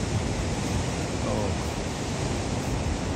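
Ocean waves at Manly beach in Sydney make a constant broad wash of surf, steady and fairly loud with no distinct breaks, mixed with some wind, and no one speaking.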